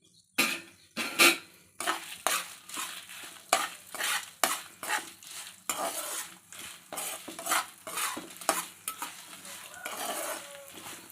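Dried red chilies sizzle in hot oil in a pan, with repeated scraping stirs of a utensil against the metal at a steady, uneven rhythm, close and fairly loud throughout.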